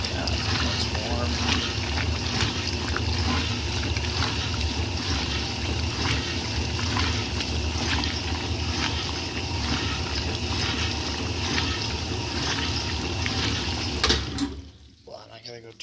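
Rinse water gushes steadily into a 1964 Speed Queen A49 washer, a loud, continuous rushing that runs for about fourteen seconds and then cuts off abruptly.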